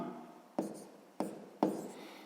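Pen strokes on paper while working a sixth-grade maths fraction exercise, three distinct scratchy bursts at a steady pace, close and fairly quiet with no talking.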